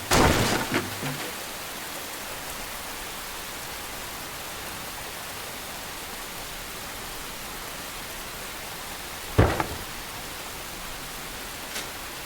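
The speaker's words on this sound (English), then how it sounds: "It's raining on my brand new floor." Steady hiss of rain in the video game Enshrouded fills the clip, with a brief burst at the start and a sharp knock near the end.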